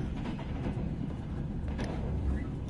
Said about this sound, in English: Oh, what the hell? A train?